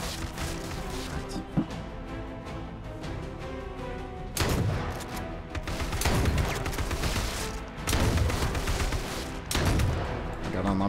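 Gunfire in the battle royale video game H1Z1, with repeated loud bursts of shots and impacts in quick clusters across a busy mix of game sound.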